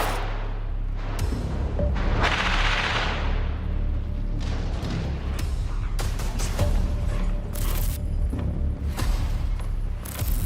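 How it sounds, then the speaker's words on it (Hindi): Rocket fire aimed at a group of soldiers near a building in a war zone: several loud booming blasts and sharp cracks with rumbling debris and mechanical creaks between them, harsh and distorted. "एक बिल्डिंग के नीचे करीब 3 से 4 आईडीएफ के जवान आते दिख रहे हैं, जिन पर हमास के लड़ाके रॉकेट अटैक कर देते हैं"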